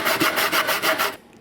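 A wooden workpiece held in a vise has a groove hand-sawn into it: about seven quick, even rasping strokes up close, then the cutting stops.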